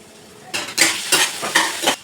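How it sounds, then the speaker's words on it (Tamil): Eggplant and potato pieces fry in oil in a pan while being stirred, with a soft sizzle and several rhythmic scraping stirs of a utensil against the pan, close and without talk. "எண்ணெயிலே ஒரு 2 நிமிஷம் வதங்கட்டும்."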